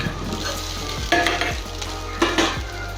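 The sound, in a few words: stirring rice into coconut mixture in a pan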